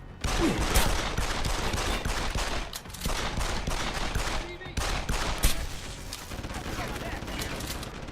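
Sustained enemy gunfire in the video game Deus Ex, with dense rapid bursts of shots continuing almost without pause, loud and close, and a voice speaking briefly under the firing.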